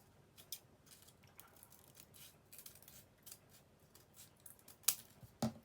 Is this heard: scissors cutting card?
yes